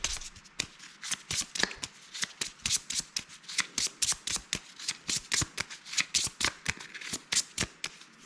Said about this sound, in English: so I got to shuffle again.